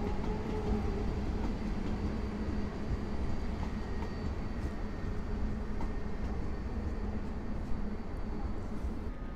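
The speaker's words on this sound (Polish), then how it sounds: "Pociąg Warszawskiej Kolei Dojazdowej" A Warsaw Commuter Railway (WKD) EN97 commuter train rumbles past steadily at night at Warszawa Zachodnia, a broad low roar with faint wheel clatter throughout, fairly loud and unbroken, no voices.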